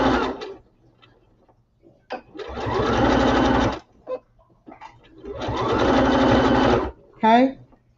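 A sewing machine runs a short back-stitch burst, then two long steady stretches of sewing forward, close and loud, with brief clicks and handling noises in the pauses between runs.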